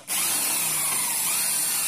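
Close, loud and steady, a power drill whines on an aluminium window frame in one continuous high-pitched run with no pauses and no voices.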